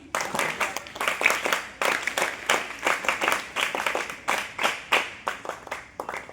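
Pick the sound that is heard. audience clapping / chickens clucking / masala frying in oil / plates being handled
audience clapping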